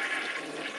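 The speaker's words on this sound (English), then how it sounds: "that sounds like a government building flush" A toilet flushes with high water pressure, a loud, steady rushing gush heard up close and continuing throughout, with no talking over it.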